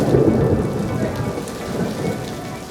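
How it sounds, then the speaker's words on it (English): An incoming thunderstorm with heavy rain and high winds rolls over a solar car team's race site, a dense, steady downpour with low rumbling thunder, loud and continuous, with no voices. "An incoming thunderstorm sends every team scrambling for cover into the garages, securing gear and fragile electronics from the high winds and rain."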